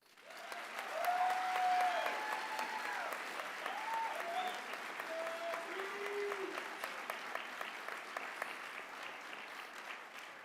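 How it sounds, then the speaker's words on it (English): An audience at a college nursing convocation gives a warm, sustained round of applause, rising quickly and holding steady, with faint voices under the clapping. "I'd like to invite everybody to just give a round of applause for this hard work"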